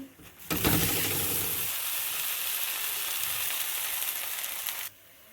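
Methi paratha frying in butter on a pan, an abrupt loud sizzle that flares up as it hits the heat, holds as a dense hiss for about four seconds, then cuts off sharply.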